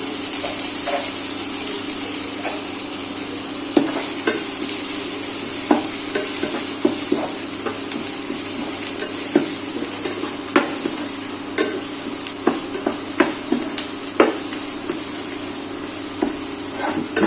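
Sliced ginger frying in oil in a pan while a paneer masala bhurji is being prepared, a steady close sizzle broken by repeated scraping and clinking strokes of a spoon stirring.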